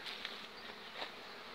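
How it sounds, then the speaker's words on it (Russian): Honeybees buzzing inside fibreboard package hive boxes in early March, a steady, close insect hum that runs unbroken with no voices over it. "Вот так работает пчела."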